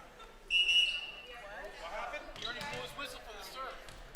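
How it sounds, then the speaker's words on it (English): A referee's whistle sounds at a high-school volleyball match, one short shrill blast near the start over gym crowd chatter, then voices talk on. "the whistle had already been blown"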